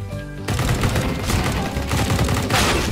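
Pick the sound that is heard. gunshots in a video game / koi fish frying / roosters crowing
gunshots in a video game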